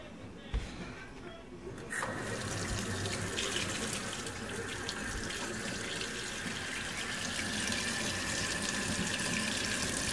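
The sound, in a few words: cold water running from tap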